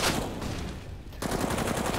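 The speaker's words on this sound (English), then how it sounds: "Couple shots from nothing already in the AUG." AUG rifle fire in a Counter-Strike: Global Offensive pro match: a rapid burst of shots, a brief pause, then another burst, fairly close and loud.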